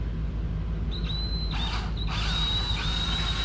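A power drill whines steadily at close range while drilling holes in CNC router legs, its pitch dipping as it bites in, with a short burst of grinding noise midway.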